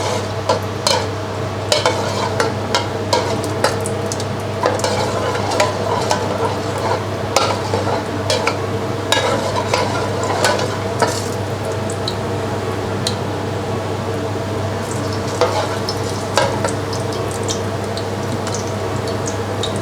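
Vegetable oil heating in a pan for a stir-fry sauce, giving a continuous close crackle and sizzle broken by frequent sharp ticks and scraping stirring sounds.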